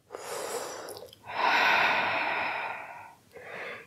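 Slow, deep yoga breaths drawn and released through the nose and mouth, a long loud airy exhale in the middle flanked by shorter breaths, close and alone without talk.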